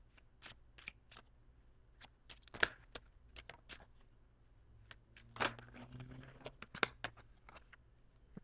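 A deck of tarot cards cut and handled, giving a series of crisp, close papery snaps and taps spaced irregularly, quiet overall.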